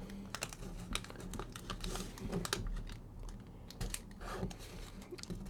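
Paper dollar bill being folded along its center crease and pressed flat, giving soft, close, irregular crinkles and tapping rustles at low volume, with no talking.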